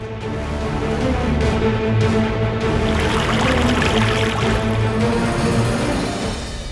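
Water pours steadily over a burnt foot in a domestic scene, a continuous splashing and trickling stream that runs the whole time without speech.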